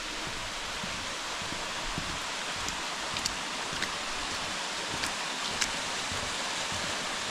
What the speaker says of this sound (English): around the corner we have the waterfall.